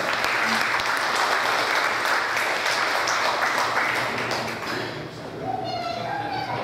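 Sustained audience applause fills a Korean community ceremony marking Liberation Day in Atlanta, a dense, loud wash of clapping that thins slightly toward the end.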